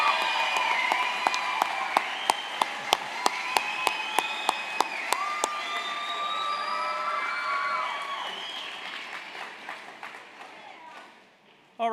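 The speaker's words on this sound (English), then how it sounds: "Let's give them all a big round of applause." Crowd applause and cheering for the graduating class at a secondary school graduation ceremony, dense clapping with whoops and shouts, a few sharp louder claps in a regular run, the ovation slowly dying away near the end.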